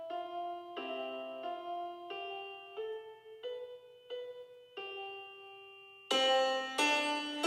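A recorded part from a Vangoa VGD611 keyboard plays back in Notion notation software as a slow sequence of sustained melodic notes, quiet and clean, ending with two brighter, fuller chords.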